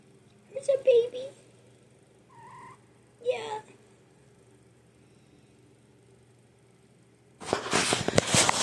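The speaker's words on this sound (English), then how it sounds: "So that's my cat." A pet cat named Rara gives a couple of short meows close by in a quiet room. A person speaks briefly, and a burst of louder rustling noise comes at the end.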